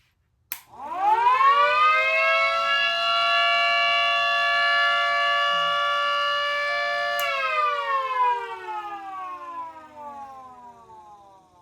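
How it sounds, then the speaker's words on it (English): A mini 3T22 electric civil defense siren on a power supply spins up from a low growl to a loud steady wail, holds for several seconds, then winds down slowly. "when I turn this on, then power still will go straight to the siren"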